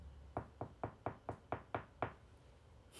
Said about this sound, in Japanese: ママ床をノックしている